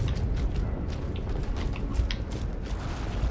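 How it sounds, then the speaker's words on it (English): A heavy door mechanism grinds open in Gears of War Ultimate Edition, a sustained metallic creak with ratcheting gear clicks repeating steadily, fairly loud and alone. "Kimberly, can you open the door?"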